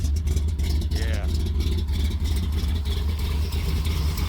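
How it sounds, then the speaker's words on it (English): A 1973 Plymouth Satellite with a big block stroker engine idling close by, a low steady rumble with a ticking valve train, while a person talks over it. "the valve train on this engine has always been noisy"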